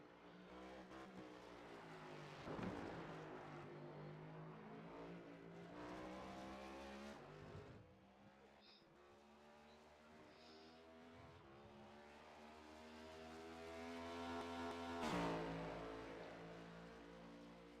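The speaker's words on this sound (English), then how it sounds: "We are going to stay mostly quiet on this, so enjoy the sound of the cars." Race cars on a qualifying run at the Indianapolis Road Course, engines roaring continuously with rising and falling revs as they pass, strongest near the start and again toward the end, with no talk.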